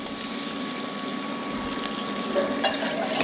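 General Tso's chicken sauce goes into a hot pan and sizzles in a steady, bright, close hiss that swells slightly near the end, with a faint tonal hum underneath.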